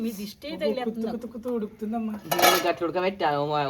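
Cooking pots and metal vessels clatter and clink in a home kitchen, with people talking and voices dominating over the clanging.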